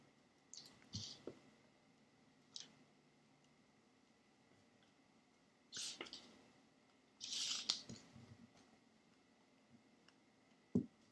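Scissors cutting colored paper for a toilet paper roll fish craft, a few short crisp snips spread apart with quiet gaps between, close and faint with no talk.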